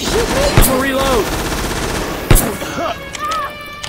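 Gunfire in Left 4 Dead 2's The Parish campaign against zombies: rapid automatic shots under two loud, close cracks, while voices shout over the fighting.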